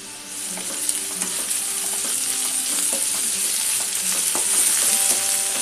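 Onion frying on full gas with ginger garlic paste added, a steady close sizzle with occasional stirring scrapes and light clicks.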